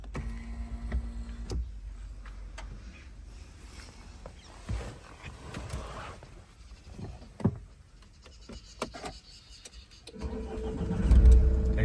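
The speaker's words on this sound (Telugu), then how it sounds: "కార్ అయితే స్టార్ట్ చేశానంటే చూసుకోవచ్చు" A 2015 Mahindra XUV500 W10 sits quietly with faint clicks and a power-window whir, then its engine cranks and fires into a louder, close rumble near the end.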